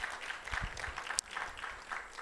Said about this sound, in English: That by itself deserves applause